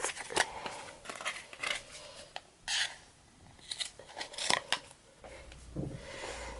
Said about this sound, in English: And then I'm going to cut.